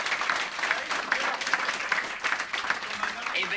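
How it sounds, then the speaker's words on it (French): Audience applause at a stand-up comedy roast night, dense steady clapping from a crowded room with scattered whoops and cheers, loud and sustained throughout. "si vous pouviez tous applaudir très très fort là ce soir dans la salle"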